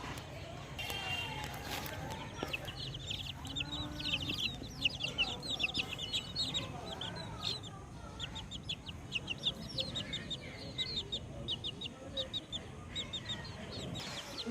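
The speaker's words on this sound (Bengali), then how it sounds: "আর ওই টাবড়ার নিচে ওখানে আমার মুরগি চাপা রয়েছে, যাই মুরগিগুলোকে তুলি এবার।" Chickens held under a basket at a village home cluck and chirp softly at moderate distance, a busy scatter of calls over faint background murmur and occasional voice.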